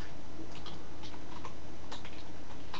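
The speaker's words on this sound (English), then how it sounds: "I'm gonna type something." Someone types on a computer keyboard, scattered soft key clicks in short irregular bursts over steady background noise, with no talk.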